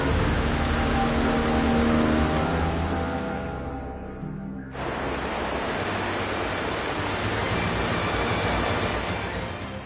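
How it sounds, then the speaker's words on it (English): Steady rain falls in the video game Xenoblade Chronicles, a dense hiss of rainfall that briefly thins and drops out before resuming at an even level, with no voices. "You may have also noticed it's raining."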